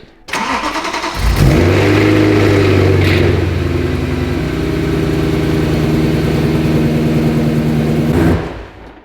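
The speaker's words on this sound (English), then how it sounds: "I just want Jared to start it up just in case we have an oil leak" A BMW M3 engine cranks and catches, then roars loudly and settles into a steady, rumbling run with slight revving before cutting off.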